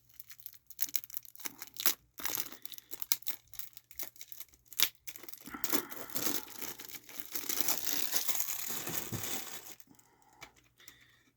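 Plastic wrap being torn and peeled off a CD or tape case by hand, with crisp crinkling bursts and tearing that build into a longer sustained crackle, then fade into quiet.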